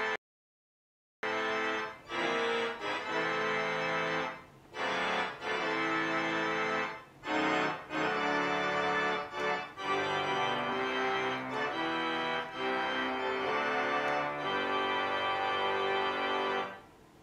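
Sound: pipe organ reed chorus

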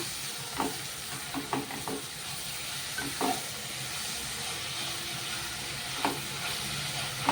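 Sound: stirring fenugreek leaves into mutton curry in pan

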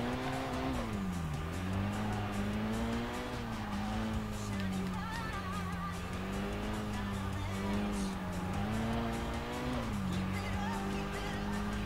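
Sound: car drifting with tire squeal, video game Kaido Racer 2

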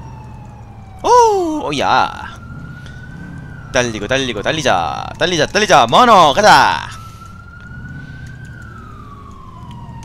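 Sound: ambulance siren in video game GTA IV

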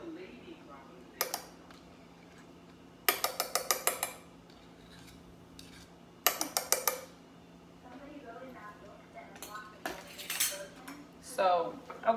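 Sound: fork scraping vegan mayo from a container

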